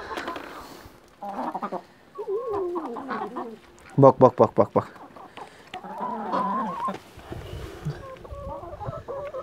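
A lively flock of chickens clucks and squawks close by as they eat chicken liver, with a burst of rapid clucks midway and a person speaking briefly.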